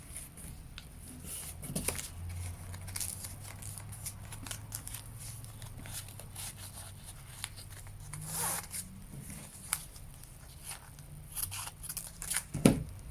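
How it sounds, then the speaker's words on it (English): Scissors snip away the end of an 8-pointed woven star, a string of quiet, close, irregular cuts and rustles, with a sharper click near the end and no talking. "Carefully cutting away the end."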